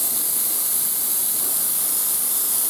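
Blue base coat paint sprayed onto a miniature, a continuous close steady hiss with no break.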